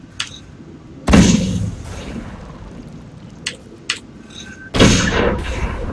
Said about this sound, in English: Here's a cannon. Great for anti-personnel.